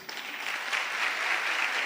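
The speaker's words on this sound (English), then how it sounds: "Another round of applause for Professor, please." An audience at a 2024 national elections forum gives a professor a short, even round of applause, heard as a soft, dense patter of many hands that swells slightly before it ends.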